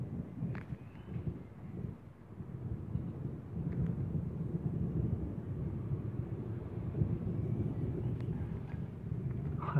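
Low, rolling thunder from a strong storm rumbles steadily in the distance at Villers-Bocage, France, mixed with wind buffeting the microphone and no talking.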